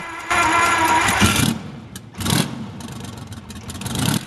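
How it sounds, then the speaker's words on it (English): A Detroit Diesel Series 71 two-stroke diesel engine, an old restored unit, revs loudly in two bursts with a short drop between them, then settles into a rough, steady run. "The Detroit Diesel Series 71 is a two-stroke diesel engine"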